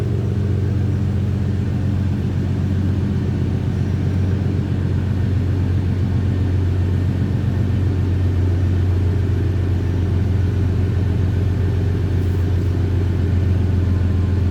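A 1991 Chevrolet C1500 Silverado pickup truck's engine idles with a steady, deep, even rumble that stays constant and close throughout, with no talking.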